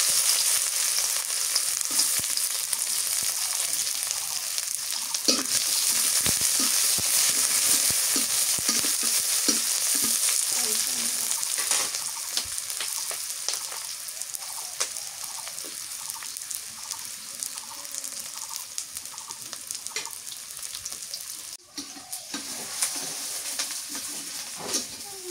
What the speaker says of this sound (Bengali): পেঁয়াজ কুচি